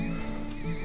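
A horse neighs in the oil-drilling video game Turmoil, a short whinny heard alone against a steady game backdrop.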